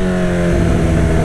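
A Honda CB1000 motorcycle engine runs loud and close with a steady, buzzing tone as it moves through its gears, with no voices.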